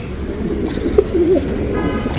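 Patta pigeons coo softly in a loft, a few low warbling coos rising midway over steady background noise, with no talk.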